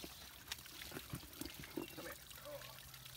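A freshwater spring trickles out of the side of a mountain on a hiking trail, a soft, steady dribble of running water heard up close and faint, with scattered small splashes.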